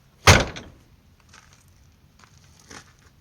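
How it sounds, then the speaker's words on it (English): A 1995 Ford F-250 truck door thuds shut with one loud, close impact, followed by softer latch clicks and rattles of the door being worked again. "But the door opens and closes perfect anyway."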